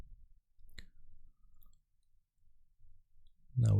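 A single mouse click on an install button in a Shopify app setup, sharp and close, followed by a few soft faint rustles and a louder low thump at the end.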